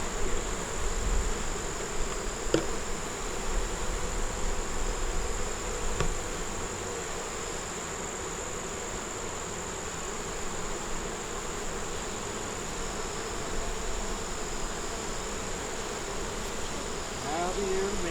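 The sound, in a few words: agitated honey bees buzzing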